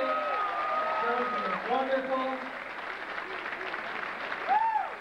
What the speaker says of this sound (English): let's give all of them a great big round of applause